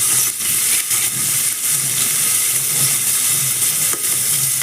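Curry leaves, chilies and pigeon peas frying in hot oil give a loud, continuous hiss and sizzle, close by, with a few brief dips as ingredients are stirred.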